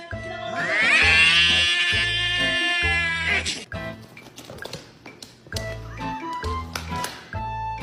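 A cat gives a long, loud meow up close, followed by scattered taps and small noises over a low rhythmic music bed.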